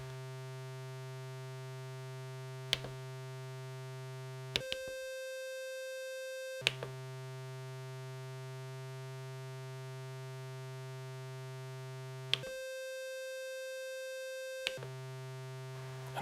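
A modular synth oscillator on a Cirklon CVIO with Northern Light Modular holds a steady buzzy low C during fine tuning, repeatedly jumping to a higher note and back with sharp clicks at each switch.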